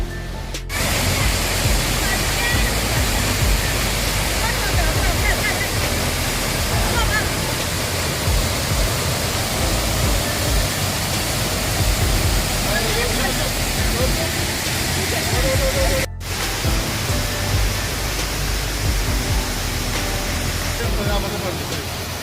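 A steady, loud roar of rushing water from the nearby Glencaire waterfall fills the whole stretch, with only brief dropouts and no clear voices.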